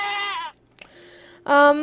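Goats in Minecraft with the Mo' Creatures mod give two loud, wavering bleats, one at the start and one at the end, with a short click-like game sound between them.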